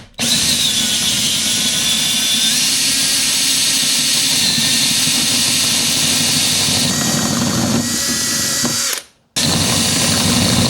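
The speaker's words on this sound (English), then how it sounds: "you're going to use a 1" hole saw bit or spade bit to drill your hole" A power drill with a 1-inch hole saw bit cuts a hole for a kayak battery box, a loud, close, continuous whirring grind that briefly stops near the end, then starts again.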